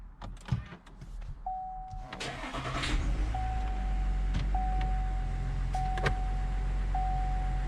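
A 2021 Chevy LT 1500 Duramax pickup truck starts up. Whirring and chiming come first, then the diesel engine cranks, catches and settles into a steady low idle inside the cab.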